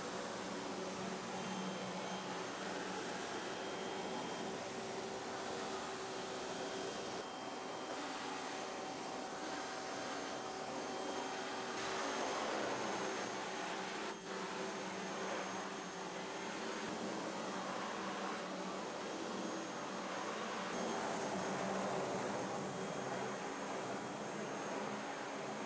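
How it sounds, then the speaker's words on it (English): A power washer blasts unexposed emulsion off screen printing screens, a loud, continuous broadband hiss of spraying water that holds steady for the whole stretch with slight surges and no talk. "wet each screen and then use a power washer to effectively remove all the"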